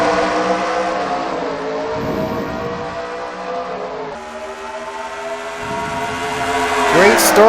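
NASCAR stock cars in a video game roar off at the start of a race, a loud, dense pack of engines with rising, shifting pitches sweeping past close by.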